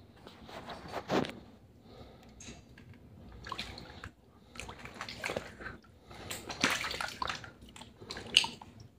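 A foot soaks in hot water with vinegar in a basin. Irregular splashes, sloshes and drips come in separate bursts, close and fairly quiet, with short pauses between them.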